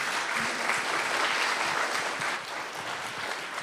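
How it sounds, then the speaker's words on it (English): Applause from a small audience after a UX and data talk, steady dense clapping that holds evenly and eases slightly toward the end. "let's get a round of applause for Jordan"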